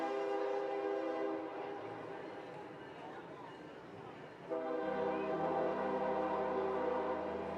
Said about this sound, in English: The train going by here at Robin Roberts Stadium.